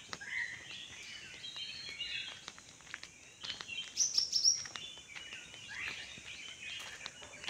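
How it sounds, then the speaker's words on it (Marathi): Birds chirping in a large banyan tree in a village, faint scattered tweets and calls at a distance over a quiet outdoor background. "तुम्ही फक्त पक्ष्यांचा किलबिलाट ऐका"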